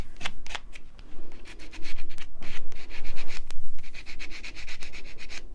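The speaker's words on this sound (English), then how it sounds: "I can get rid of that, which is fantastic, just by kind of sanding it off" Rhythmic sanding and rubbing strokes scraping excess copper off a surface, close and fairly loud, with short pauses between bursts of back-and-forth strokes.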